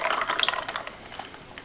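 Iced coffee poured over ice, a short close splashing trickle that starts strongest and fades within a couple of seconds.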